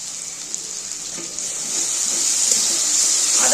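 Ginger paste and spice masala frying in a pan, giving a steady close hiss that swells slightly louder toward the end, with no talking.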